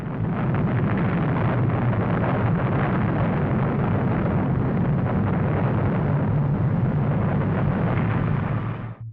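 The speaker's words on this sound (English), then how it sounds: "As the morning came, the rocket launched." Mercury Redstone rocket launching in the morning, a steady, dense roar with crackling bursts that holds loud and unbroken for about nine seconds before cutting off at the end, with no voices.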